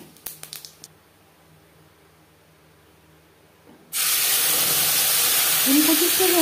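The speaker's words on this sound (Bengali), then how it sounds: "জিরে তেজপাতা 20-25 সেকেন্ড ভেজে নেব" Cumin seeds and a bay leaf dropped into hot oil left from frying fish: a few quiet taps, then a sudden loud, steady hissing sizzle that continues to the end.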